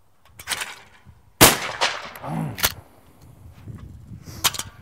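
Prop or blank gunfire on an indie film set, a few sharp, loud single shots spaced irregularly, with faint movement between them and no talk.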